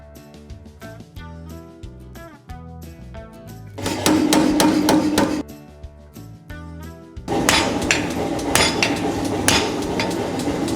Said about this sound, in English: I'm gonna flip it around and forge out my tang a little better